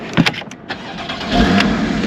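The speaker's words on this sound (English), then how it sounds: "Car starts right up" A 2015 Porsche Boxster S engine cranks with a few sharp clicks, then catches and settles into a low, steady idle, close and loud.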